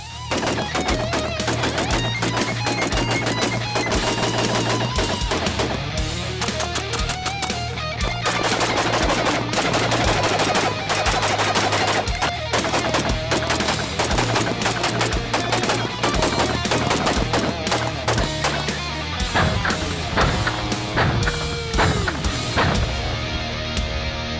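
An ACR rifle fires in long, loud, rapid strings of shots that run almost without a break, with sharp cracks stacked densely from close range.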